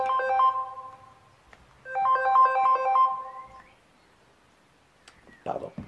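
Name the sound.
mobile phone ringtone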